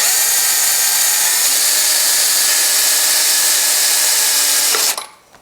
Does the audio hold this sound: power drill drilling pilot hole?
yes